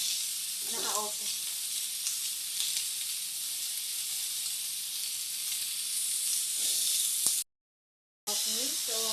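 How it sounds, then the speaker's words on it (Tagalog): Pork fat sizzles and melts in an uncovered pan, a steady, loud frying hiss running throughout, broken by a brief silent gap near the end, with short bursts of talk over it. "Nahayaan ko lang siyang matunaw konti yung taba"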